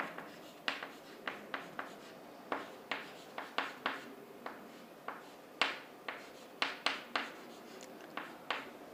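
A marker or chalk scratches across a lecture board in a quick run of short, crisp strokes and taps, irregular in rhythm, close and fairly quiet with no talking.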